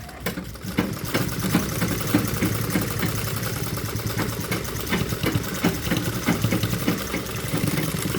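A sewing machine stitching a palazzo seam runs at a steady rapid rattling clatter for several seconds, close and continuous, with no talking.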